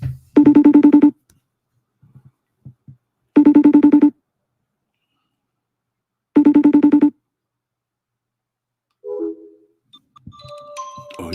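Outgoing phone call ringback tone: three loud, evenly spaced electronic ring bursts separated by silence, followed by faint handling noise and a brief voice at the end.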